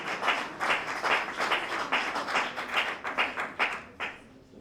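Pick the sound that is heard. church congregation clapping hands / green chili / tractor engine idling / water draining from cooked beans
church congregation clapping hands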